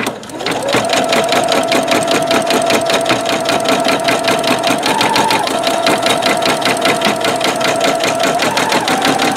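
Singer Futura Quintet embroidery machine stitching metallic thread, a loud, steady, rapid mechanical whirring hum with a constant motor tone that shifts pitch slightly, running continuously.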